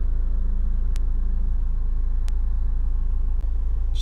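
Honda Civic 2.2 i-DTEC diesel engine running at idle, heard from inside the car as a steady low rumble with a few faint clicks.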